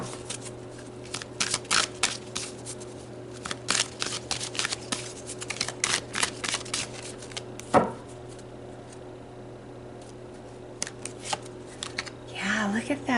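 A tarot deck is shuffled in quick, repeated close-up flutters of card edges, with a brief pause and a sharper handling sound near the end, against a faint steady hum.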